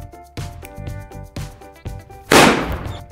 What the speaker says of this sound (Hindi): अच्छा बेटा बुलेट बम।